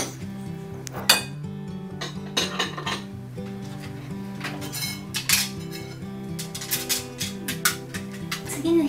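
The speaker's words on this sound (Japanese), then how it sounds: "食器が乾いたら元の位置にしまっていきます" Dried dishes and cutlery clink and clatter in a steady series of knocks as they are put away, over a constant background hum.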